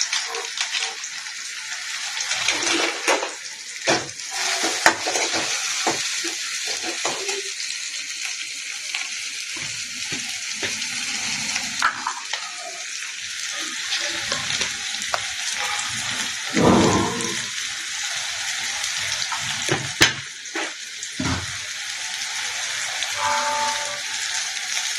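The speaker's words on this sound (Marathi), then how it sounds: "तेलात छान तळून घ्यायचं." Masoor dal fries in hot oil with a steady, dense crackling sizzle and occasional sharper pops, close and continuous throughout with no talking.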